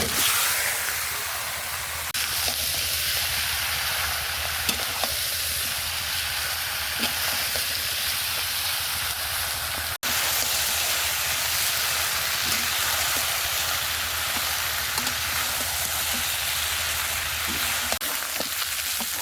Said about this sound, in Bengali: মাংসগুলো ভালো করে কষাই করে নিয়েছি